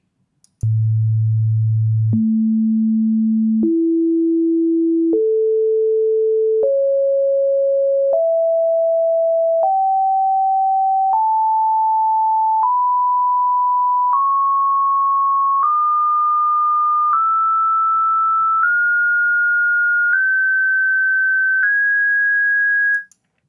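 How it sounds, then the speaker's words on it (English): Pure electronic tones of the first fifteen harmonics of the harmonic series step upward one after another, evenly spaced sustained notes climbing from a low hum to a high whistle. "This is what the harmonic series sounds like."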